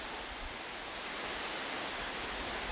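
Waterfall at Niagara Falls in Oregon's Siuslaw National Forest, an even, hissing roar of cascading water, continuous and fairly soft with no voices.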